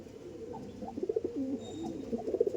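A flock of Andhra pigeons at a loft coos in soft, throaty rolling murmurs, close and continuous, overlapping one another with no talking.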